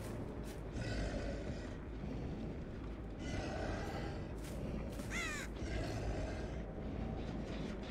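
Crows caw in the video game Dead by Daylight, several harsh calls rising over a steady low rumbling game ambience, moderately distant, with no talk.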